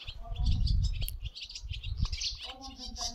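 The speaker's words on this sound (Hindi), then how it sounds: "चिड़ियों की आवाज़ें आ रही हैं" Birds chirp and tweet in repeated bursts beside a bamboo forest near a school in rural Uttarakhand, moderately close, over low rumbling background noise and some faint voice.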